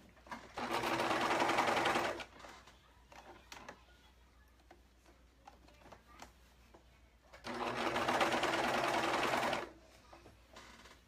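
A serger sewing machine stitches dress fabric for a costume in two loud, steady, rapid mechanical runs of about two seconds each, separated by quiet handling noises.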